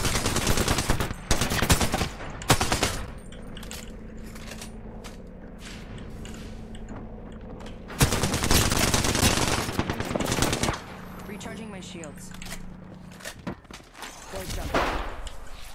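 Gunfire in the Apex Legends video game, with bursts of rapid automatic fire that come and go across the stretch, loud and close, with heavier volleys near the start and the middle.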